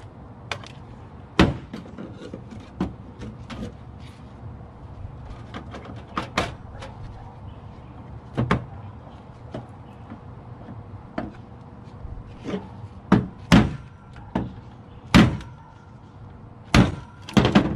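A chisel knocks a gold-cornered BGA chip off a fire-damaged computer board, making sharp, scattered cracking strikes and snaps at irregular intervals, some louder than others, over a quiet background.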